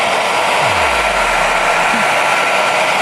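Hair dryer blowing on a notebook page, a loud steady whoosh of airflow that runs unbroken throughout, close to the mic.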